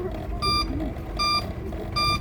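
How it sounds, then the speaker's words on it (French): A car turn signal beeps three times at an even pace, each tone clear and ringing over a low engine rumble inside the car. "Ce que vous entendez là, c'est mon clignotant que j'enlève maintenant."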